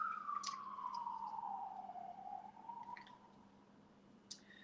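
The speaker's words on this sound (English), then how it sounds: "Oh, hear a siren." A siren wails far off outside, its faint tone gliding down and then steady, while a quiet kitchen goes on nearby with a few soft clicks.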